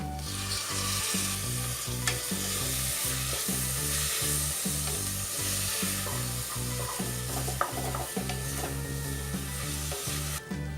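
Two medium tomatoes frying in a pan with ginger-garlic paste for vegetable biryani, a continuous sizzle broken by regular rhythmic scraping strokes of a spatula stirring, close and steady throughout.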